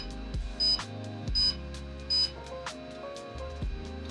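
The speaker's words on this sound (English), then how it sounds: "The beeping stops on the Goggles X" Walksnail Goggles X FPV goggles beeping while binding to a ZOHD Alpha Strike, three short, faint electronic beeps spaced about three-quarters of a second apart over a low background hum.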